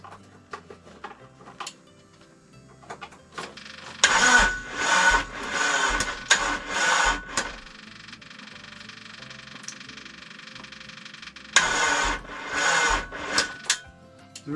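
A jump-connected engine cranks without catching in two bursts of rapid, rattling mechanical chugging separated by a pause, fairly close, with a faint steady hum between attempts.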